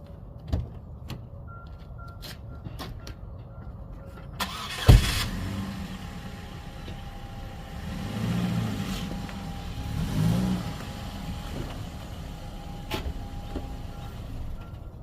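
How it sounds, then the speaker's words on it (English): A high-mileage 2009 Chevy Cobalt engine cranks and starts with a sharp burst, then idles and revs gently as the car creeps forward onto ramps, with a faint steady tone above the engine hum. "Let me pull it up on the ramps."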